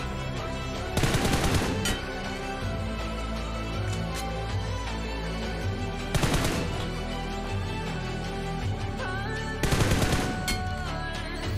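Automatic gunfire in the mobile battle royale game BGMI, three loud rapid bursts spaced a few seconds apart over a continuous background of game sound.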